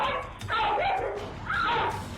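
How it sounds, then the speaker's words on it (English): A pit bull yelps and barks in two strained, whining bursts while snapping at a smaller dog named Max during an attack outside a home, loud and close over background noise. "the pit bull snaps and tries to bite down on Max"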